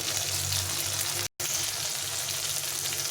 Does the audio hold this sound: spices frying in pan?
yes